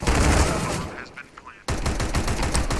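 Gunfire in Counter-Strike: Global Offensive during a professional match, with rapid bursts of shots loud and close, a brief lull, then renewed sprays of fire.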